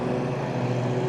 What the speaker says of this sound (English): somebody's always got to turn the lawnmower on.